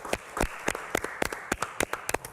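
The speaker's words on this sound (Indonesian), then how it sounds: "Saya minta yang ada di studio kita beri tepuk tangan dulu untuk Mbak Nora." Studio audience clapping on a television talk show, heard as a series of sharp, separate claps spaced at irregular intervals, moderately close and fairly quiet, with no talking over them.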